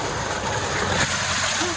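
Water gushes steadily from a solar-powered tubewell, a loud, continuous rushing splash heard up close throughout.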